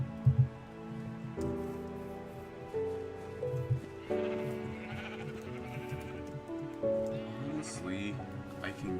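Sheep on a video-game sheep farm bleat in short, wavering cries that come one after another at irregular intervals. They sound fairly close against a quiet background.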